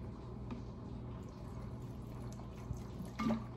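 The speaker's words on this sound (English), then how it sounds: "I'm gonna pour a little bit of water" Water poured into a cup makes a soft, steady trickle at low volume, ending with a small clink or splash.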